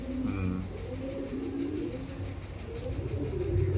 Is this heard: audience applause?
no